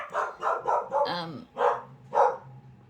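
A dog barks several times in quick succession, then twice more after a short pause, close and fairly loud.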